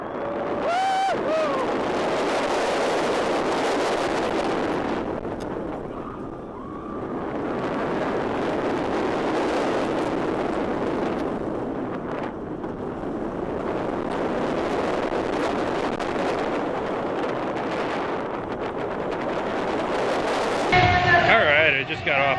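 Rushing wind roars steadily over the microphone during a ride on the Banshee roller coaster at Kings Island, loud and continuous for the whole run with brief dips, ending in a burst of clatter.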